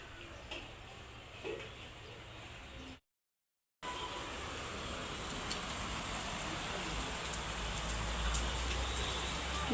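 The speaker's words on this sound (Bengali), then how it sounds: "বৃষ্টি অলরেডি একটু বাড়া বাড়ছে" Heavy rain falls outside during a dark midday downpour, a steady close hiss of drops that thickens in the second half after a brief silent gap.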